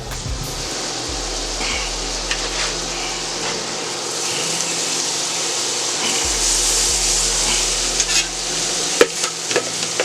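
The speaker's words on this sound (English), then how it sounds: "with a little bit of butter here on the griddle. And the first thing I'm going to put on here is my vegetables." Continuous crackling sizzle of vegetables frying in butter on a flat griddle, loud and close, with occasional scraping and clatter from a spatula, and no voices.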